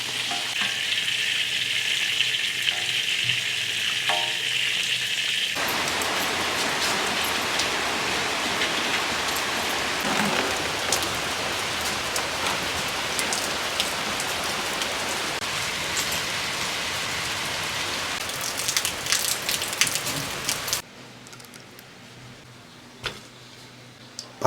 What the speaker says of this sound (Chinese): 先用大火给它炸一下，叫定型，然后再调小火给它沁炸